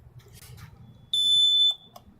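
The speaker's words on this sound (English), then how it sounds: "So sorry, that was the kid alarm, so they don't accidentally run outside." A child safety door alarm at a home with a pool gives one loud, steady electronic beep of about half a second, standing out over faint background murmur.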